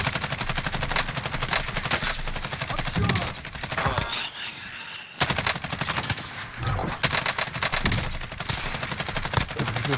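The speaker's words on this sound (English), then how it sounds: "Oh, I'm getting shot at." Rapid automatic gunfire in the battle royale game Call of Duty Warzone, dense and loud, firing almost nonstop, with a short lull partway through before the shooting starts again.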